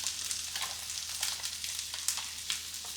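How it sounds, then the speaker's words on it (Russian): Onion softening gently in a little oil in a pan, a quiet, steady sizzle with faint crackles throughout and no voices. "не поджарить лук, а немножко прогреть в масле, чтобы стал мягким"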